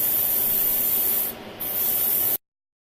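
An airbrush sprays paint onto a PG Gundam GP01/Fb model kit during shading. It gives a steady close hiss that pauses briefly midway, resumes, then cuts off abruptly.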